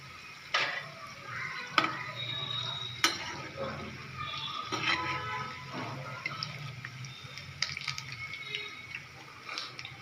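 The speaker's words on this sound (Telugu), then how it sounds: "చక్కగా పకోడీ అనేది అయితే ప్రిపేర్ అయిపోతుంది వేడి వేడి పకోడీ" Pakoda fritters of gram flour and rice flour fry in hot oil with a steady, soft sizzle, broken by a few sharp clinks and scrapes of a utensil against the pan.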